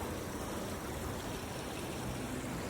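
Flowing water of the Truckee River makes a constant, even hiss and murmur, moderately faint and uninterrupted, with no speech over it.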